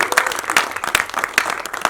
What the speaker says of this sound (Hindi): तालियां भी उनकी जोर से होनी चाहिए